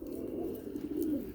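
Pigeons or doves cooing steadily close by, a continuous low throaty murmur of overlapping coos with no speech.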